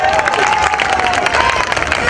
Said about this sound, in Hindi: एक बार फिर से ताली बनती है यार।